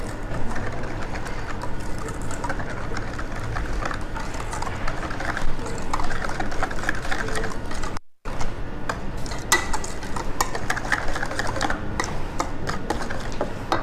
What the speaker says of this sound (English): So give it a whisk.